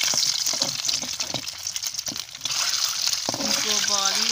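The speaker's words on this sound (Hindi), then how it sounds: "हमने भून लेना है।" Eggs frying in a pan give a soft, continuous sizzle with light crackles, and a voice starts talking near the end.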